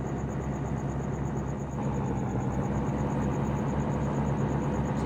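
Steady, loud truck engine rumbling continuously while cutting through a farm field in the Missouri River Valley, a constant low drone with slight vibration and no talk.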